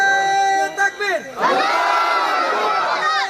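A large crowd at an outdoor religious mahfil in Habiganj roars a takbir together, a sustained swelling chorus of voices following a loud sung call from a leader on a reverberant public-address system.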